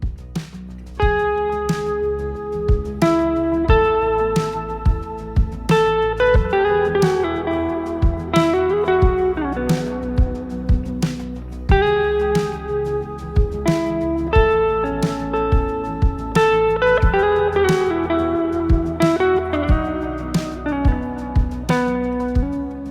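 An electric guitar solo mixing arpeggios with pentatonic scale runs over chord changes, with clear picked notes in a steady rhythm, some ringing together, played alone without talk.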